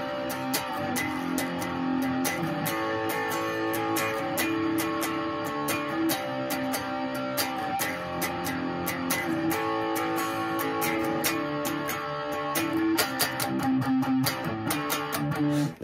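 Electric guitar strumming chords in a steady rhythm, full and sustained with a slightly driven tone, playing alone without any voices.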